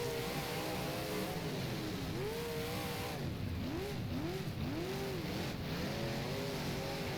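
Big block modified race cars roar in the rFactor racing game at Utica Rome, several engines revving and rising and falling in pitch as they run side by side, a dense, continuous loud drone.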